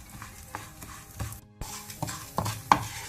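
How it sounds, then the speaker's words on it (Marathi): Urad dal roasting in hot oil for a Mangalorean chutney, stirred with a utensil in a pan: soft sizzle broken by a few sharp scrapes and taps, close and fairly quiet, briefly dropping out midway. "आतां हें तेल उन जालें म्हणटना आमी उडदा दाळ ताका घालया. तिगे तांबडी जाता म्हणसर भाजया"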